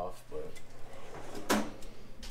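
A drawer on a Snap-on tool chest in a diesel tech college tool room slides open or shut, a metallic rattle and clunk under close talking, with a sharp clack midway.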